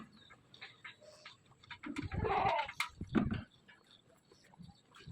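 Goats bleat at a farm while drinking molasses-sweetened water, several calls overlapping near the microphone in a dense burst mid-clip, with quieter scattered bleats before and after.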